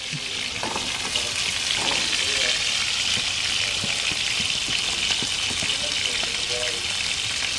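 Salt and pepper squid sizzles and crackles loudly and steadily on a flame grill at a seafood barbecue, with faint clinks and movement under the continuous frying hiss.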